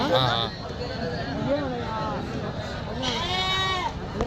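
Rams and sheep bleat repeatedly at a busy weekly sheep and goat market, several wavering calls rising over constant crowd chatter and bargaining voices nearby.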